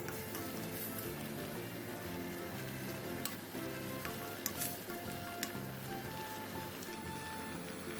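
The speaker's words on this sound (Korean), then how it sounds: "냄비에 무와 물 50ml, 고춧가루 1, 소금 1티스푼을 넣고 무에 빨간물이 들 때까지 볶아주세요." Radish stir-fried in a pot with water, chili powder and salt, giving a steady close sizzling hiss with a few faint clicks of utensils against the pot.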